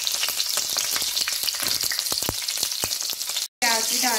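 Green chilies hit hot oil already tempered with cumin and dried red chilies, setting off a loud, dense sizzle with crackling pops that runs steadily, breaks for a moment, then resumes as the spices fry.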